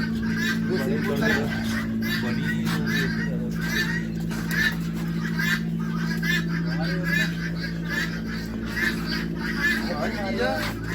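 Desi pigeons at an animal and bird farm in Hoshiarpur, Punjab, call repeatedly over a steady low hum, with people talking nearby.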